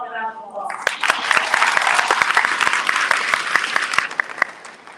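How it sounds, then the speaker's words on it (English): Graduation audience applause at a high school commencement ceremony, a dense steady wash of many hands clapping that swells in after a brief spoken lead-in and holds loud for several seconds. "So give yourself a round of applause."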